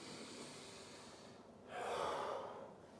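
During a morning stretching routine for the hamstrings, back and hips, one slow, deep breath is taken. It is a soft, close, airy exhale that swells midway through and fades, with near silence before it.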